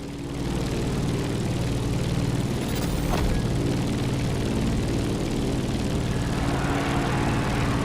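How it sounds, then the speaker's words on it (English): A propeller aircraft descending to land in the racing game The Crew, arriving at Honolulu: a steady, loud engine drone with a droning propeller hum, even and unbroken from start to finish. "Let's start our descent and get ready for the landing."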